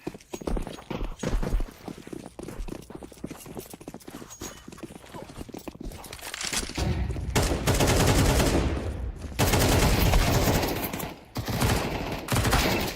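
SMG gunfire rattles in a Counter-Strike pro league match, starting as rapid bursts of shots and building into long, dense volleys, with a short gap before the firing resumes.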